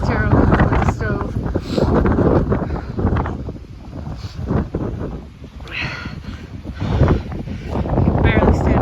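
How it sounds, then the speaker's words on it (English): Strong, gusting wind buffets the microphone at a campsite during a storm, a loud continuous roar that surges and eases, with voices faintly under it. "You can barely stand up here. It's so windy."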